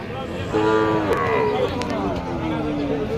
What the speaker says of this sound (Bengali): উত্তরবঙ্গের ঐতিহ্যবাহী গবাদি পশুর হাট